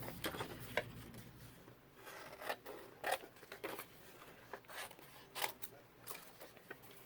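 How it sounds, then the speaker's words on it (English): Scissors cut around file folder card in a run of separate rasping snips, fairly close and moderately loud, with brief pauses between cuts and no talking. "let me just roughly cut around here"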